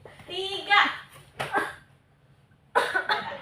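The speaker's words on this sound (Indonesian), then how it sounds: "Batuk nggak apa-apa." In a classroom, a voice speaks, followed by two short, sharp coughs separated by a quiet pause, heard up close.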